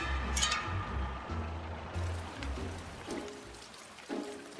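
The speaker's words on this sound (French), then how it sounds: "le vent souffle en rafales et la pluie tombe sans cesse" Steady rain falls through a cold, gusty night on deserted Paris streets, a close, even patter under a low rumbling bed.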